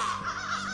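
Crows caw continuously in the video game The Beast Inside, a dense, harsh layer of overlapping calls with a steady low hum underneath and no talking.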